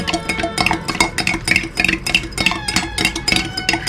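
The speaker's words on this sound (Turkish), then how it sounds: "Biraz evvel şekeri sürahide suyla ıslatmıştım. Onu karıştırıyorum." Sugar and water stirred in a pitcher for homemade lemonade, with a spoon clinking and rattling against the sides in a quick, continuous rhythm, close and fairly loud.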